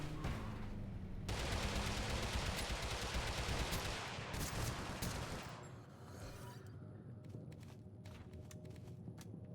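Gunfire in Totally Accurate Battlegrounds comes as a dense, continuous barrage of shots and crackling, loud for several seconds before thinning into scattered distant pops and footsteps.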